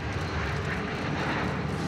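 An airplane arriving at Deauville airport, its engine roar a broad, steady drone heard at a distance, continuous and fairly quiet with no voices.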